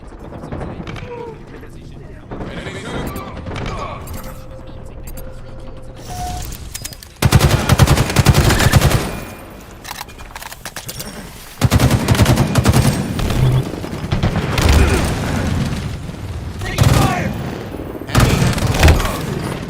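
Gunfire in the video game Halo Infinite, bursts of rapid shots and booming blasts in several loud stretches, mixed with game effects and a player's voice talking over it.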